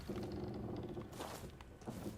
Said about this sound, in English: we've barred this door